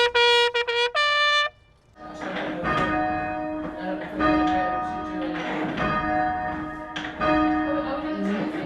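Church bells peal for the coronation of King Charles III, a clear struck bell sounding alone at first, then a dense, loud, continuous clangor of many overlapping bells ringing together.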